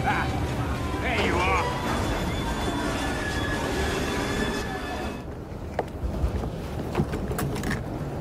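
Train running in the video game Assassin's Creed Syndicate, a steady rumbling roll with faint squealing wheel tones, continuous and fairly loud, with people talking over it throughout.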